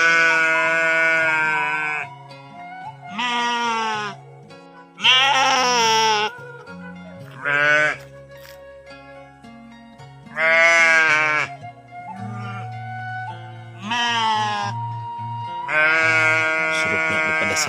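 Sheep bleat repeatedly in a rural Cianjur village at dusk, loud wavering calls in separate bursts with short pauses, one animal close and others answering, over a low steady hum.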